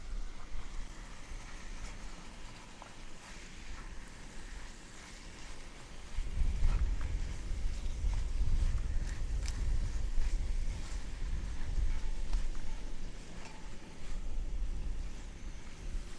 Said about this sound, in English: Quite windy now.